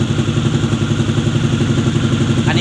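A Honda ADV150 scooter with a 66 mm bore-up and modified exhaust runs loudly and close, its exhaust rumbling steadily with a rough, throbbing idle and occasional popping throughout.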